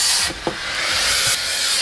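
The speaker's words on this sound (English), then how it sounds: "so you hear how powerful the steam is" Strong, steady hiss of steam jetting out of a Toppin steam mop, loud and close, with a brief dip and a few low knocks before the hiss surges again.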